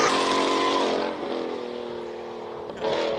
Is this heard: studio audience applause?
no